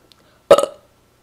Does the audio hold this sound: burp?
yes